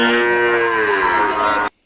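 A cow gives one long, loud moo that holds steady for almost two seconds before stopping abruptly.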